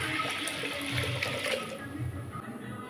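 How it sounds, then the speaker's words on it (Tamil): Two tumblers of water pour and splash steadily into a cooking pot for a few seconds, close by, with a light gurgling rush and no speech. "ஒரு 2 டம்ளர் தண்ணி சேர்த்திக்கலாம்."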